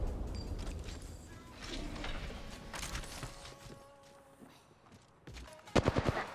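Bursts of Apex Legends gunfire crackle at moderate level, with a loud rapid volley near the end, among scattered in-game effects and footsteps.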